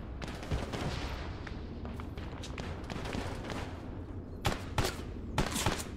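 Gunfire in a World War II D-Day video game rattles in rapid bursts of overlapping shots, fairly faint and distant-sounding, with sharper louder volleys near the end.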